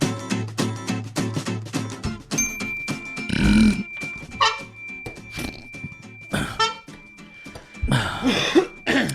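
A man coughs in a podcast studio, several harsh bursts mixed with throat clearing and grunting noises against a background of other sounds.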